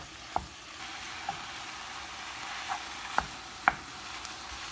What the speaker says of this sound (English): So we just want to get this nice and browned, and we're going to go about 8 minutes.